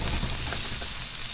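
Onion sizzling in a hot pan for a shrimp and asparagus stir fry: a dense, steady hiss of frying, close and continuous, with no talk.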